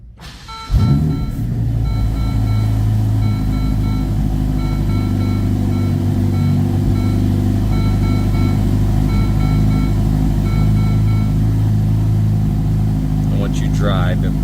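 A 2025 Ferrari Roma Spyder engine catches after a cold start and holds a loud, steady high idle, heard close up in a continuous drone with a faint rattle near the end.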